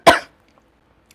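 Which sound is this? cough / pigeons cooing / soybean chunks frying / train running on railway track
cough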